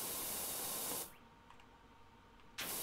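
A pressure washer spraying in PowerWash Simulator: a steady loud broadband hiss for about a second, a pause with faint background, then the spray resumes abruptly near the end.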